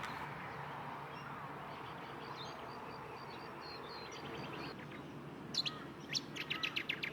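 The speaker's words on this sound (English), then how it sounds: "we can hear lots of little birds like the Brown Honeyeater." Small wetland birds such as Brown Honeyeaters chirp among reeds and trees in the Australian bush, a quick burst of high, bright tweets arriving near the end over a soft outdoor hush.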